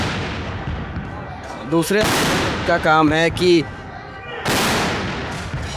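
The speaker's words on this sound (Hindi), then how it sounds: "देखिए फायरिंग, आप समझ नहीं सकते कि यहाँ पे आवाज़ का जो इम्पैक्ट है वो कितना तेज़ है।" Ceremonial cannons boom during a 21-gun salute at the Red Fort, two loud blasts close together followed by another a few seconds later, while someone talks between the shots.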